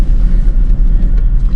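A car pulls away as the driver eases out a half-pressed clutch during a driving lesson, giving a steady, loud low engine rumble that holds evenly throughout with no talk.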